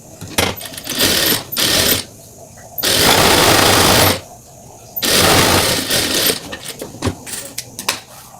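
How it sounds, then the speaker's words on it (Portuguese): Sewing machine stitching fabric strips for a turban headband, running in several loud bursts of a few seconds each, separated by short pauses with faint handling noise. "Vou costurar primeiro a faixa que é do turbante, a faixa principal."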